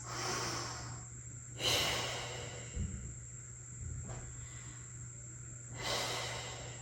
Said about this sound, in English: Let your belly push into that ball, full belly breaths